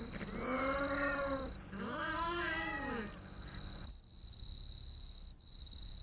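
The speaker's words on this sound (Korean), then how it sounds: "생후 6개월이 안 되는 새끼 고양이들도 자주 발견됐다" Feral cats at an urban landfill at night give two long, loud, wavering yowls one after the other, over a steady high chirping of insects that continues after the cats fall quiet.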